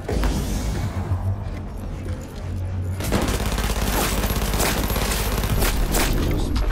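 A grenade blast and a dense, sustained fusillade of gunfire in the video game Cyberpunk 2077, with a low rumble that erupts into loud, continuous rapid shots without talk.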